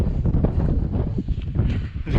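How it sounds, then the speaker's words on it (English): Gusty wind on the Mt Bruce hike in Karijini National Park, outback Australia, rumbles and buffets the microphone continuously in loud, uneven surges. "It's so windy."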